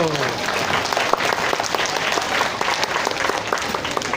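Warm applause from an audience at a religious hall's scripture-reading evaluation event, thanking performers in red Christmas outfits; sustained, dense clapping throughout, fairly loud and steady, with no talk over it.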